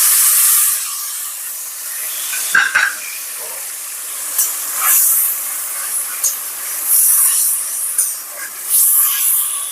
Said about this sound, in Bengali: তারপরে এই যে রসুন আর হচ্ছে আদা আর লঙ্কার যে পেস্টটা করেছিলাম, সেটা আমি ফার্স্টে দিয়ে দেবো।